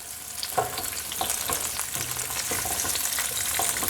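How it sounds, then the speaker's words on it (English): Vegetables sizzle in a pan as they are sauteed for a venison stew, giving a steady, close frying hiss with scattered crackles and no talking. "There's the sizzle we're looking for."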